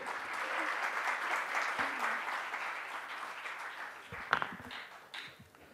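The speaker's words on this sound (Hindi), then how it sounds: "तालियों से स्वागत कीजिए" An audience applauds, a dense patter of many hands clapping that gradually fades, with a few voices emerging as it dies down.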